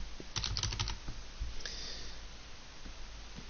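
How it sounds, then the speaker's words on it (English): A search term is typed on a computer keyboard in a short, quiet run of close key clicks, a few quick bursts spread over a few seconds with soft breathing or sniffing in between. "So for example, if I type in credit card,"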